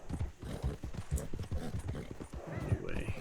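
Horse hooves clip-clop in a steady, even rhythm as a horse is ridden in Diablo 4, with a soft whinny and a few game sound effects near the end.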